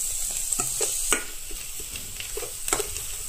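Egg fried rice with turmeric is stirred in a hot pan, with spatula scrapes and clinks landing irregularly over a steady close sizzle of frying.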